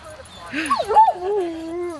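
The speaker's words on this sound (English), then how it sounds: "this tiny puppy here is Remy" A tiny puppy and other dogs give high, wavering whimpers and a short yip, close by and fairly loud, with no speech.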